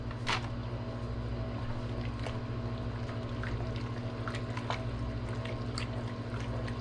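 Liquid is poured into a pot of cheesy soup, giving a steady, continuous rushing pour with a low background hum underneath, moderately close and uninterrupted for several seconds.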